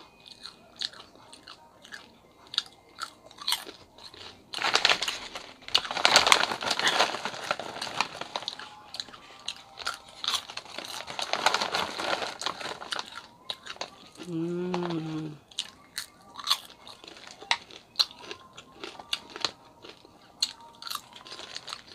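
Crunch 'n Munch caramel popcorn snack crunched and chewed up close in a light ASMR setting, with repeated crisp bites and mastication crackles through most of the stretch and a brief hum-like vocal sound midway.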